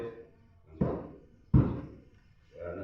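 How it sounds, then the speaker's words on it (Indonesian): A gavel strikes twice in quick succession with sharp, solid knocks, then a softer thump follows in a quiet room. "ketok palu."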